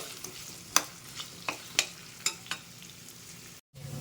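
Potato pieces frying in a pan, a soft steady sizzle with a few sharp clacks of a utensil stirring, close and fairly quiet, with a brief dropout near the end.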